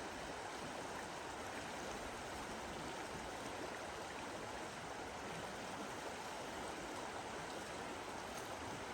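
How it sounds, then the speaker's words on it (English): The Metolius River flows past Lower Bridge Campground, a steady broadband rush of moving water that stays even and continuous throughout, close and fairly full with no voices. "The beautiful Metolius River."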